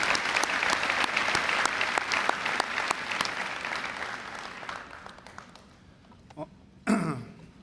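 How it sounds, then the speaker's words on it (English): An audience claps steadily through a round of applause at the Mattituck High School Class of 2025 graduation ceremony. The clapping fades after about five seconds and is followed by a few isolated coughs and throat clearing in the hall. "Again, another round of applause."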